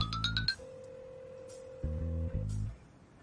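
A phone rings on a returned call: a few quick chiming ringtone notes, then a long steady electronic tone with a short melodic pattern before it fades.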